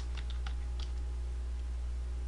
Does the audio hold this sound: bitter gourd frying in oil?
no